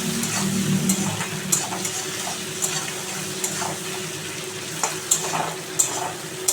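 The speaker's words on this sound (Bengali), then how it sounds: "নেড়ে চেড়ে নিচ্ছি।" Green chilli, ginger and tomato fry in a pan and get stirred, a continuous close sizzle with scattered spoon scrapes and taps throughout.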